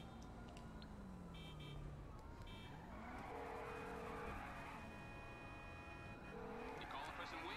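A car driving up and skidding in a video game, engine whine rising with squealing tires as it pulls in close, while a voice talks over it along with game effects.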